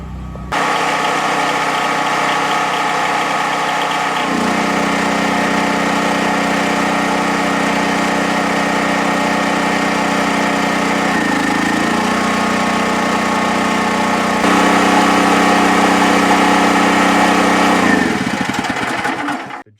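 A Predator 9000 portable generator runs steadily during a full home test, a loud close engine drone with a firm low hum that shifts load partway through and again later before winding down at the end.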